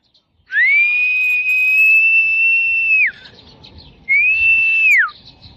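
Two sustained whistled notes outdoors while flying a kite in the Philippines, the first long and steady for about two and a half seconds, then a shorter one, clear against a quiet background.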